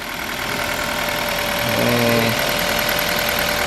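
Engine of a 2017 Kia Rio with a manual gearbox idling steadily, an even close hum with a faint tonal rise midway, no speech.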